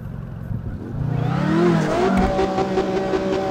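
A sports car in the video game CarX Drift Racing 2 revs up during a drift, the engine note climbing and swelling loudly with a rising, buzzy whine over a brief stretch.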